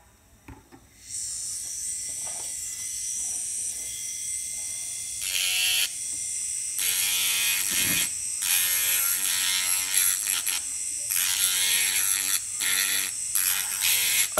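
Dental handpiece spinning a disc to trim the frenum notches of a denture, a high-pitched whine that starts up then comes in repeated bursts of grinding contact, close and continuous.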